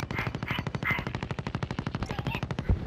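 Rapid automatic gunfire in the video game Warzone, Plunder mode, a steady stream of close, loud shots at an even fast rhythm for about three seconds, ending with a couple of heavier thumps.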